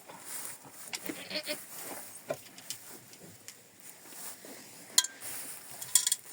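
Goats bleat a few times over a busy farmyard background, with soft clinks and rustling nearby; the calls are moderately loud and irregular.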